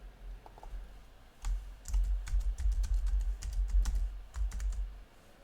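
Rapid keyboard clicks as a username and password are typed on a computer keyboard, close and fairly soft, in irregular bursts over a low hum with no talk.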